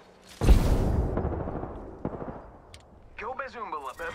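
Gunfire in the video game Apex Legends: a loud close shot followed by a few fainter reports, then a voice speaking near the end.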